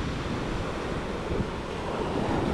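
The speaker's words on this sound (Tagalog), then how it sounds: "Ito sa tabing dagat," Waves roll and wash at the seashore, a steady broadband roar mixed with wind buffeting on the microphone, with no voices.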